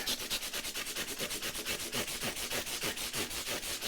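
Quick, even strokes of 400-grit abrasive on a block sanding across guitar frets, a close, rhythmic rasping of about sixteen passes with no voice.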